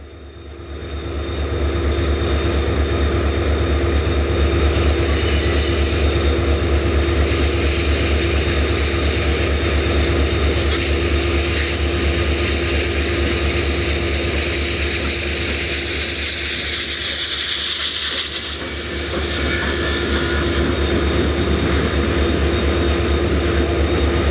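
Union Pacific Challenger 3985 steam locomotive hauling a train through a flood wall and around a sharp curve near Cincinnati, a steady loud rumbling drone with a constant low hum and a brief dip in level, no talk.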